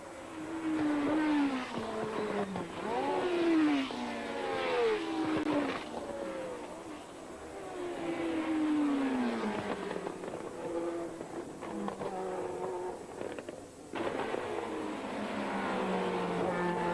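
Formula 1 race cars from the 1977 season, wet grisly conditions, engines whining and sweeping in pitch as they pass, loud and continuous for the whole stretch with no talk over them.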